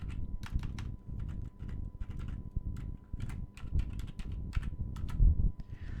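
Steady typing on a computer keyboard while entering a name into an Excel spreadsheet, a close run of quick, light key clicks in irregular bursts with short pauses.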